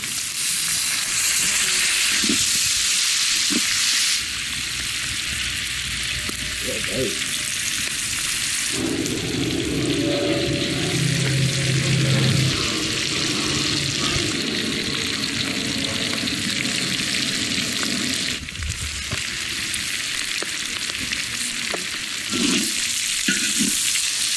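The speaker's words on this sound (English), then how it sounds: "puddle of lard, which he then sautés the onions, the peppers, the garlic in before putting the pork back" Pork, onions, peppers and garlic sauté and stew in lard in a village kitchen in the Philippines, sizzling and crackling continuously, with stirring scrapes and bursts of louder frying partway through.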